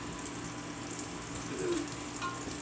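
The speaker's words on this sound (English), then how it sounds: "You can hear it starting to sizzle" Quiet steady sizzling of garlic oil and butter in a pot, a soft continuous crackle with a faint clink partway through.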